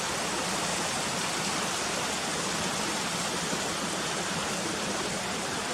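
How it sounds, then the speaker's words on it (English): Ashgill waterfall roars in a steady, unbroken wash of rushing water from a distance, loud and even throughout with no other sounds. "there's the waterfall up there in the distance"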